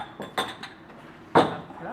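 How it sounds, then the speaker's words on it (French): A utensil clinks against a bowl as dry ingredients are stirred together in a salad bowl, giving a few short, close taps with a sharper knock near the end. "on va verser tout ce qui est sec dans le saladier. Voilà. Et on mélange."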